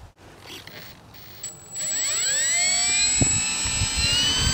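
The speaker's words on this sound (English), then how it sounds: "Maiden flight of the Durafly F4U Corsair." A 44-inch Durafly F4U Corsair RC model airplane on its maiden flight passes overhead, its electric motor rising into a loud high whine that sweeps in pitch as the plane zooms by, after quieter ambient moments.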